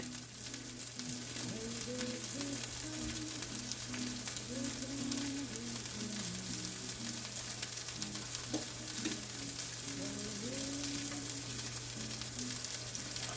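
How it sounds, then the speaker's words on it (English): Italian sausage searing in a very hot pan gives an unbroken, even sizzle and crackle throughout, close and steady, with a low hum and faint murmuring underneath. "Right now the temperature's that high, you kind of want it to sear quick."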